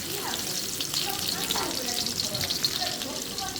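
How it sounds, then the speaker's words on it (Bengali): Chopped onion fries in a pan with a dense, continuous sizzle, steady and close, joined by faint stirring. "পেঁয়াজ একটু লাল করে ভেজে নেব"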